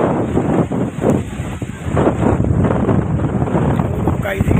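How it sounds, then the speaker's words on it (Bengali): Strong gusty wind buffets the microphone outdoors in a village, roaring and rumbling loudly in uneven surges throughout, with no clear speech over it. "কি বাতাস চালাইছে"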